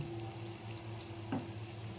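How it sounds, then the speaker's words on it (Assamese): Lentil fritters called bor frying in a pan, giving a steady, fairly quiet sizzle of oil with a brief burst of spattering near the end and no voices. "আটাখিনি বৰেই ভাজি ল'ম।"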